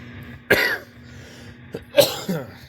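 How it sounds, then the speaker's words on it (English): Two sharp, close coughs about a second and a half apart break a quiet room with a faint steady hum, with a smaller throaty sound between them. "I can't stop coughing. It's so annoying."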